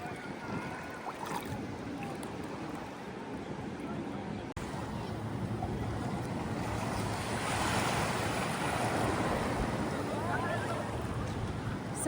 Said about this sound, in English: I'm still able to enjoy the breaking of the waves and the ripples that are coming through.